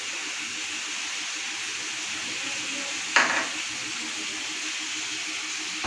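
Ginger garlic paste sizzling in a pan for chicken curry, a low steady hiss with a sudden sharp burst of crackle partway through, close by and without talk.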